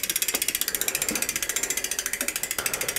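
A thrift shop Mongoose bicycle's rear derailleur and freewheel ticking steadily as the pedals turn, a fast, even ratcheting clatter close to the microphone with a few heavier mechanical clunks from gear shifting.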